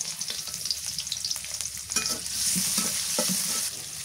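Garlic sizzles in hot oil while a utensil stirs and scrapes through it, a steady bright crackle that swells louder halfway through with a few clinks and no talking.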